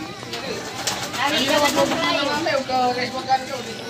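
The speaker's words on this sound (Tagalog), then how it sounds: "So masaya po yung mga kalapati natin kalapatids dahil maluwang na po yung loft nila." Pigeons in a roomy new loft coo softly amid fluttering and shuffling, while a person talks over them throughout.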